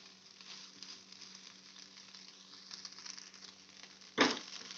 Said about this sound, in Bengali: ফ্লেমটা খুবই আস্তে করে দিয়ে এগুলো ভেজে নেব।